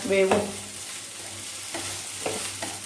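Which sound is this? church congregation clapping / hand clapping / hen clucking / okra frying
okra frying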